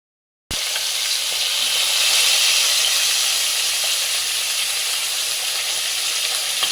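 After a moment of silence, fish hits hot oil in a wok and a strong, steady sizzling hiss starts up and holds evenly to the end, with no one speaking.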